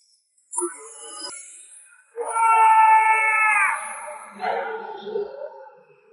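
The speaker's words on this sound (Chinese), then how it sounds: "四周立刻传来了一阵阵的惨叫之声" Agonized screams of many victims being drained in a sacrificial rite inside a secret realm, from a Chinese fantasy audio drama: overlapping wailing cries that rise and bend in pitch for a couple of seconds, loud and close, then fade into lower moans.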